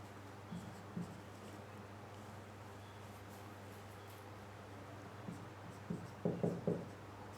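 Writing on a board during an English exam-practice lesson: faint scratchy strokes, a couple early and a quick cluster near the end, over a steady low hum with no talking.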